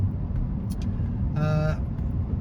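Range Rover diesel driving on the road, a steady loud low engine and road rumble from inside the cabin, with a brief horn-like tone partway through.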